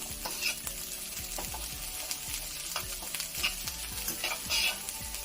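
Chopped onions sizzle steadily in a hot pan while a utensil stirs them, scraping and tapping the pan in a regular rhythm, close and continuous, with no talking.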